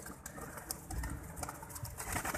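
Pigeons in a loft, including hens sitting on eggs and feeding: soft, low cooing and faint rustling at a distance, quiet throughout.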